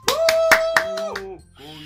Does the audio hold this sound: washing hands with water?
no